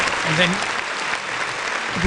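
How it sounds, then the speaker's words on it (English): Applause from a live show audience for a guest, a steady broadband wash of clapping lasting a couple of seconds with a voice briefly audible alongside it. "if we could have a round of applause for Mark there"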